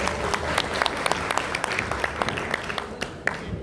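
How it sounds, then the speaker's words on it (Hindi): An audience claps at an Atomy sales event, producing dense, sustained applause with sharp individual claps popping out of a steady wash of hand noise. "एक बार प्लीज जोरदार तालियां बजाएं"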